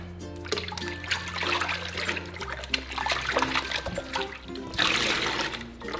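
Water trickles and splashes steadily as hair extensions are rinsed under running water. The flow is close and continuous, with small splatters and no talking.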